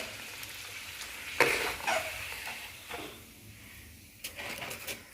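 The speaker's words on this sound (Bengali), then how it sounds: "ফুলকো লুচি বানাচ্ছি বন্ধুরা" Luchi, puffed Bengali flatbread, fries in hot oil with a soft bubbling sizzle, broken by a few louder clatters and splashes.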